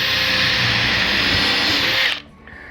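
A power drill whines at high speed for about two seconds while drilling a hole in an aluminum boat, then cuts off abruptly, leaving a quiet low hum.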